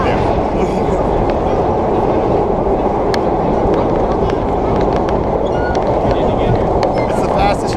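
An NYC subway express train on a vintage holiday nostalgia run from Rockefeller Center to 125th Street roars at full speed, a loud, constant rumble heard from inside with scattered rail clicks and clatter throughout.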